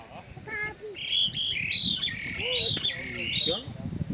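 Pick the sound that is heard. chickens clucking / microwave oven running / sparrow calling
sparrow calling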